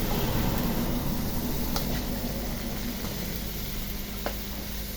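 Baby corn and celery stirred in a frying pan, a steady close sizzle with faint scraping touches throughout, no voices.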